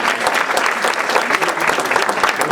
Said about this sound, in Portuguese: Aplauda Jesus que na vida estava aqui no sábado.